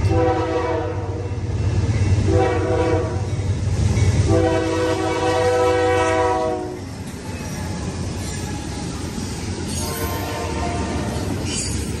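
A CN freight train's horn, swapped during a rebuild, blares in long sustained chords at Mount Albert, sounding several times over rumbling rail noise, then fading as the train keeps rolling.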